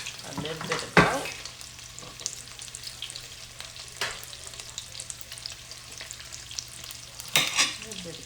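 Cabbage with garlic frying in a pan, a soft continuous sizzle broken by several sharp scraping stirs of a utensil, close and fairly quiet.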